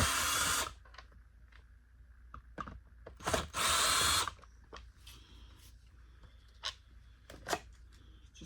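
A power drill backs screws out of the handle of a Bissell Cleanview Rewind Pet vacuum during teardown, giving several loud whirring bursts with short clicks and handling knocks between them, close up and without talk.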